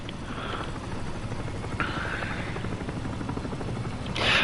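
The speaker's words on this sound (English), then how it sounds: "All I see is a helicopter coming in at full speed." In War Thunder, a helicopter closes in at full speed, its rotor thrumming as a rhythmic low pulse under steady engine noise, ending in a louder swell as it nears.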